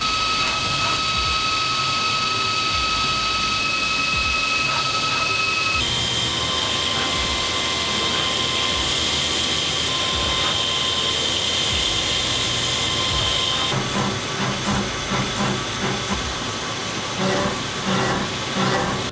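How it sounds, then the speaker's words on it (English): CNC machine cutting a clutch part in a workshop, with a steady, loud mechanical whine and high tonal squeal that shift pitch in stages as the cut changes, close and continuous with no talking. "This CNC machine doesn't have a roof, so I can just film it from up top"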